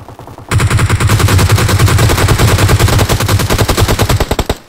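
Rapid automatic gunfire from a PUBG Mobile match, a dense, loud burst of shots running nearly five seconds after a brief quiet start, with a few separated shots at the end.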